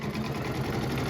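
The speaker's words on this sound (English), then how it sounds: "It's all pretty much done in the embroidery machine" An embroidery machine stitches a doll pattern with a fast, steady mechanical whirr and rhythmic needle chatter, close and even throughout the brief moment.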